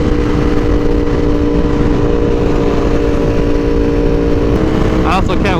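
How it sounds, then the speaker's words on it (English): A Ducati Panigale V4R with an SC Project exhaust runs on a dyno, a loud continuous engine roar that ends in a sharp burst of revs near the end, with a voice talking over it. "These pops and bangs on this bike are very aggressive."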